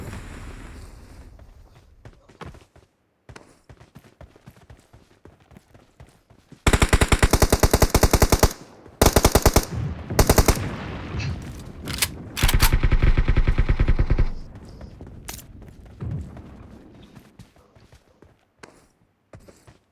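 Bursts of machine gun fire in PUBG Mobile Mecha Fusion mode, loud rapid rattling volleys in several separate clusters with quieter in-game ambience between them.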